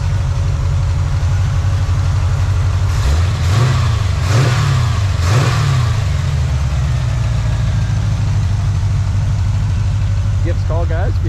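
A 1968 Chevrolet C10 pickup with a 4-link rear suspension idles with a loud, deep rumble, then revs three times in quick succession, each rise and fall distinct, before settling back to a steady idle close by.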